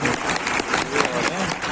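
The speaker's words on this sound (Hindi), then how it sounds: "सर इमरान के लिए जोरदार तालियां हैं।" Audience applause for a teacher at an IT class session, a dense steady patter of clapping from a crowd lasting under two seconds, with faint voices mixed in.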